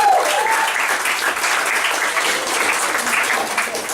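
At a comedy club improv night, a steady, full round of applause rises from the audience as two performers are called up, evenly sustained and fairly loud throughout.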